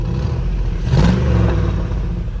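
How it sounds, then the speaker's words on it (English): An LS-swapped International Harvester Travelall 4x4 with a quiet dual exhaust idles in park, giving a steady, close, mid-pitched engine rumble with a brief rev swell and no talking. "It has a good exhaust note."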